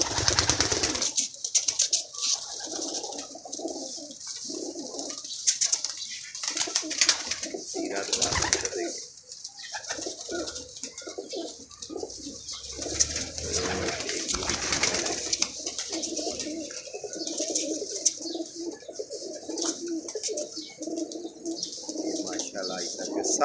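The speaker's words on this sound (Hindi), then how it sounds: "आपको इधर से भी व्यू करा देता हूँ हाजी साहब के कबूतरों का" Pigeons cooing steadily on a rooftop loft, a dense chorus of soft, close coos with occasional chirps and light wing flaps, while someone speaks intermittently over them.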